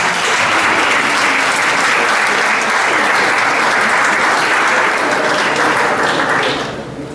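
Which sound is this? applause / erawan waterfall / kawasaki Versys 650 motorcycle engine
applause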